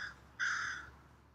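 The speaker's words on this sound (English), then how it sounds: "the crow says a good job" A single crow caws once, a short harsh call heard at moderate distance over a faint, steady outdoor background.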